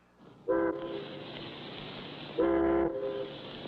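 Two loud, steady horn-like whistle blasts, the first about two seconds long and the second shorter, over a constant low background rumble.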